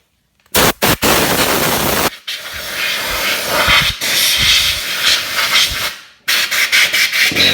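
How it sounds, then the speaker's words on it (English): Compressed air blasts loudly in long hissing bursts through a part from a 50cc motocross bike being cleaned, with brief gaps between the blasts. "we get some compressed air"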